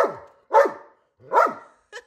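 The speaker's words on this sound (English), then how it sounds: "What are you barking at" Pet dog barking at a ball stuck out of reach, three loud close barks in quick succession with a short yip at the end, no talking over them.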